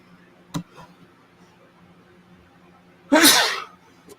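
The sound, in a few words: sneeze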